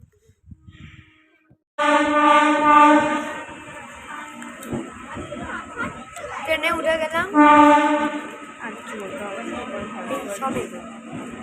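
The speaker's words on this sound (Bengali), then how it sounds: "আমাদের ট্রেন অবশ্যই এদিক দিয়ে আসবে" A long, loud horn blast with rich harmonic tones sounds over rumbling motion, broken briefly and then sounding again with a second strong burst.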